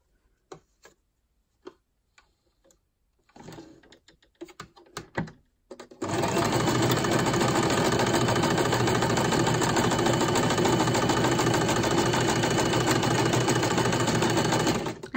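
After a few scattered taps and handling knocks, a sewing machine starts stitching pockets and runs loud and continuous for about nine seconds with a fast, even mechanical rattle.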